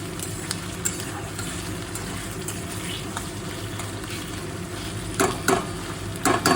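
Onion with ginger-garlic paste sautéing in a pan gives a steady low sizzle, with occasional scrapes and stirring clicks that grow a little louder near the end.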